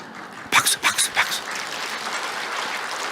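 A church congregation bursts into applause during a Sunday sermon: a short run of loud, rapid clapping that fades into a steady, softer background wash.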